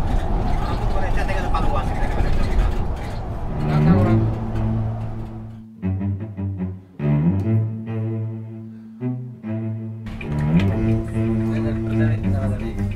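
Aerobus Tentrem Avante D2 coach reversing and maneuvering, a steady low diesel idle with rumbling engine tones, brief air-brake hisses and pauses, as people talk in Indonesian over it.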